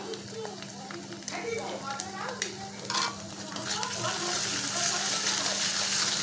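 Ground chili paste hits hot oil for a Bengali hilsa bhuna curry, a steady crackling sizzle that swells louder toward the end, with scattered stirring scrapes and a low constant hum underneath.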